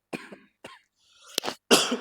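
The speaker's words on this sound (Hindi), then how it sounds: "तुम्हें पढ़ाने में ना खांसी वसी भी आ रही है" A series of coughs from one person, a few short dry bursts then a harsher, longer cough, close and fairly loud with pauses between.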